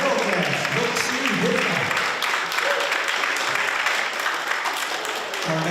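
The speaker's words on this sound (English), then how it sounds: "give them a round of applause for Turtle Dance" Applause for a Turtle Dance at a dance ground gathering, a steady wash of clapping running throughout with crowd voices and talk mixed underneath.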